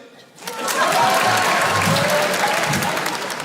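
Applause from a theatre audience at a cultural-season comedy show, rising quickly after a short pause into a dense, loud and steady wash of clapping that holds to the end.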